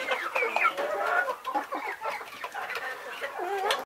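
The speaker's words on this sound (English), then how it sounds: "Chickens." Chickens cluck continuously in a busy overlapping chorus of short squawks and chatter, fairly close and steady throughout.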